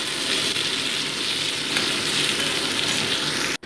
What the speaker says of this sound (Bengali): এবার পেঁয়াজটাকেও আলুর সাথে হালকা ভেজে নিচ্ছি।